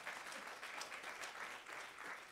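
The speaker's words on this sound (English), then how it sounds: "Let's give God a hand clap." A church congregation at a Sunday worship service applauds steadily, dense clapping from many hands filling the room at a fairly even level throughout, with no talking.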